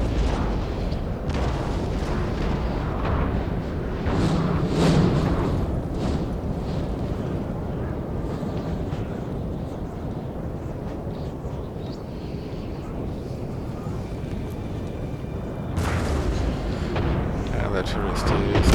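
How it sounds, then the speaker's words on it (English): Napoleon Total War battle with massed artillery, a continuous low rumbling roar of cannon fire and battlefield din, with heavier booming bursts rising out of the wash and a voice talking over it throughout. "And the artillery is shooting straight into the middle here."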